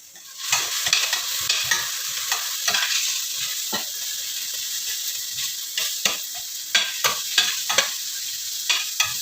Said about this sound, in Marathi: हे वाटण आपण आता त्यामध्ये ओतून घेणार आहोत, टाकून घेणार आहोत, आणि तेही जरा थोड्या वेळ सॉट म्हणजे परतून घेऊया